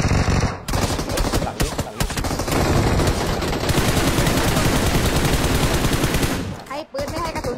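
Video game gunfire rattles loud and close in rapid automatic bursts almost without a break, with a short pause near the end before firing resumes.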